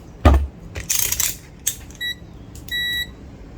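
A continuity tester checks leaded solder joints with two short electronic beeps, the second slightly longer, amid faint clicks and handling noise close by.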